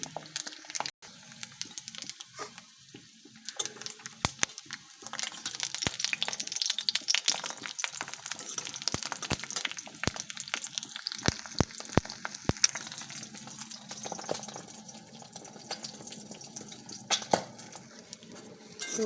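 An egg sizzles and crackles in hot oil in a pan, soft steady frying with scattered sharp pops and spits, close and fairly quiet.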